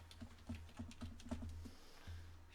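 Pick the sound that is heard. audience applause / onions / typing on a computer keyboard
typing on a computer keyboard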